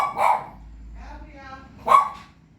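A dog barks twice, sharp and fairly close, with a short whining sound between the barks.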